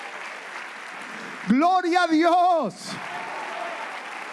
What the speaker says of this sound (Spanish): Vamos a darle un aplauso a Jesús.